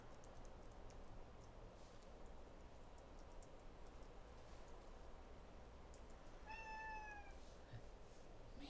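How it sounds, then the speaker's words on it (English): A pet cat named Polly meows once, a short rising call, faintly above a steady hum indoors with light ticking in the background. "My cat is talking to me."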